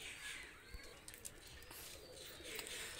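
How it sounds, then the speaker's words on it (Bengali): Two female pigeons let loose, with soft cooing and a few faint flutters over a quiet, low background, no talking. "দুইটা কবুতর ছেড়ে দেখাচ্ছি"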